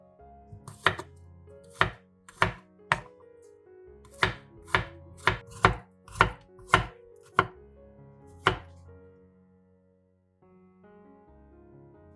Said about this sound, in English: Chop 4 cloves of garlic.